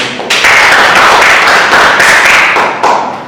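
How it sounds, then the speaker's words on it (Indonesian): Classroom audience clapping at the end of a Fiqh teaching practice session at an Islamic university, a loud, close burst of hand claps that starts abruptly and continues for about three seconds, then tapers. "tepuk tangan"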